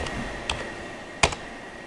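A few sharp computer keyboard keystrokes while a number is typed into CNC router design software, isolated clicks spaced out over a quiet room background, with no speech.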